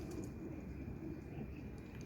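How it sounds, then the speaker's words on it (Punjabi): A teddy pigeon in a pigeon-keeping setup coos softly and continuously under a steady, faint wash of low background noise. "ਇਹ ਜਨਾਬ ਟੈਡੀ ਕਬੂਤਰ ਹੈ"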